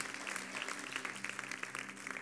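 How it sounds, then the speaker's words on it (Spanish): A church congregation claps and applauds steadily during a sermon, a dense patter of many hands at moderate loudness, with no one speaking over it. "Denle un fuerte aplauso a la capital del mundo."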